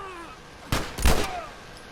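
Gunfire in The Last of Us, two sharp broadband shots close together, the second heavier, standing out against a quiet game background.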